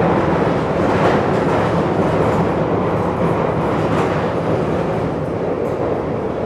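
A London Underground train passes at close range on the track, a loud, continuous rumbling roar with rattling wheels that holds steady for several seconds.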